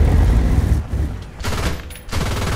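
Repeated tank cannon and machine-gun fire in the War Thunder tank game, with a Leopard 1 in play, comes as loud dense bursts broken by short lulls over a low rumbling battle din.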